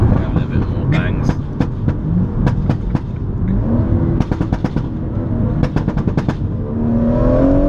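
A 460bhp BMW M140i Motech Edition driven hard on an open road, its exhaust crackling with repeated sharp pops and bangs in quick clusters over a loud engine drone, with a voice speaking over it.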